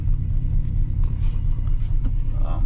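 A pickup truck with a loose universal joint on its drive shaft rumbles close by as it moves, its drivetrain kicking hard into gear under a steady low engine drone.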